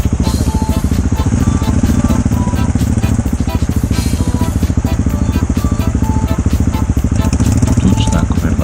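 An off-road motorcycle rides a muddy trail on a sunny day, its engine droning loud and steady throughout with continuous rhythmic pulsing, close to the listener.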